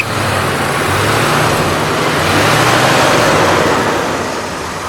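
A 1966 Ford Galaxie 7 Litre with a 428 V8 running steadily at idle, a smooth, even low rumble held close and loud with no talking.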